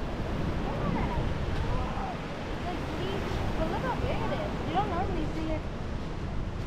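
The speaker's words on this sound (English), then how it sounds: "Big waves. Big waves. Big waves." Ocean surf rolling onto the shore of a tropical island beach in the Philippines, a steady broad wash of breaking waves under wind noise, with a person talking over it.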